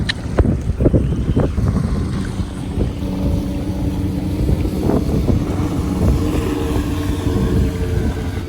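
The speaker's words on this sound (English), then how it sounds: "the wind was coming in a westerly" Steady wind rushes past a Catalina 22 sailboat under sail on open water, a constant buffeting roar with faint water movement beneath, with no talk.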